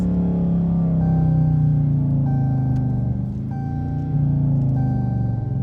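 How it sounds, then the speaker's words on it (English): Car engine fitted with a K&N high-flow air filter revs steadily with a loud low rumble, swelling as the throttle is pressed and easing briefly before rising again, with no talk over it. "the more I hit hit the gas, the louder the car gets"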